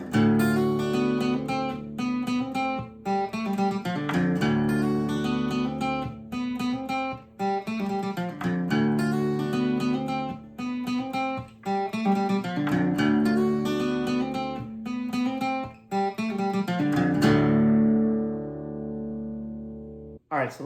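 Guitar intro to Corey Smith's "Let Me Love You On A Backroad" played in drop D tuning, a steady run of bright picked notes and chords over ringing low strings, loud and continuous, ending in a fading ring-out.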